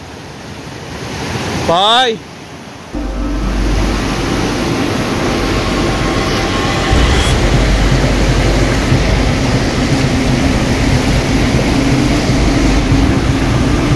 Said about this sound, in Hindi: ये पानी कितना ज्यादा तेजी से जा रहा है